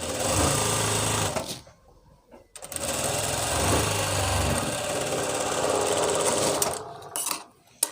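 A sewing machine attaching a pocket to a panel of palazzo pants runs in two long, loud, steady bursts of whirring stitching, split by a short pause, close up with no talk.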